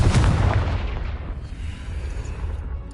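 A booming blast from the Confringo fire spell in the Hogwarts Legacy video game, one loud explosive burst at the start that rumbles and fades away over a few seconds.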